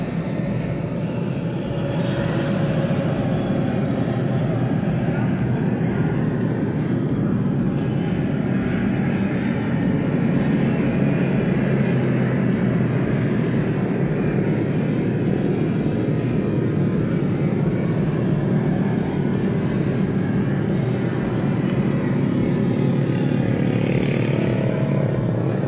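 A 2.4-litre petrol engine in a 2011 Honda CR-V automatic, Modulo edition, runs steadily at idle, making a close, continuous rumbling drone with no voices over it.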